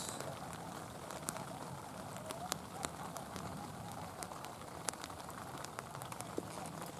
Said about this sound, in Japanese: 雨は降っておりますが